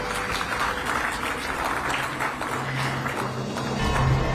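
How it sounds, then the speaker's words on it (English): Steady audience applause fills a hall at a health awards ceremony, a dense continuous patter of clapping with a faint tone rising near the end. "I think we can keep the claps rolling for Dr."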